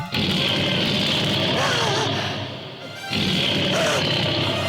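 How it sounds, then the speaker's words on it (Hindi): A lion's roar in a mythological TV serial, a loud, sustained, growling bellow that breaks off briefly and then roars again. "अब तो सुनी तूने सिंह की दहाड़"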